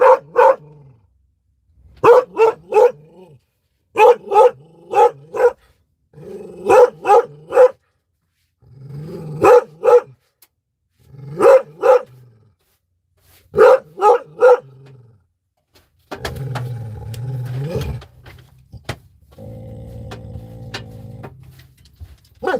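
A dog barks in sharp paired and tripled bursts at steady intervals, loud and close, then the barking gives way to clattering and rustling noise near the end.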